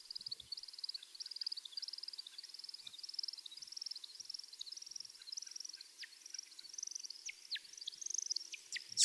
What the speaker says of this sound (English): at which point we're going to start to hear a little bit more variation in the chittering.